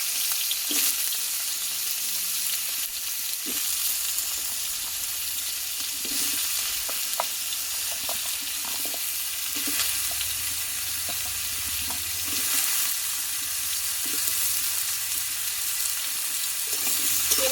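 Squeezed banana stem (thor) frying in oil in a kadai, a steady soft sizzle with scattered small pops and occasional stirring clinks, moderately close and uninterrupted.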